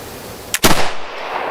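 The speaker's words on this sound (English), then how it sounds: "squeeze the trigger, get a firm hold on the grip" A flintlock smoothbore pistol fires once during load testing: a quick priming flash, then a loud close boom that rolls off into a short echo.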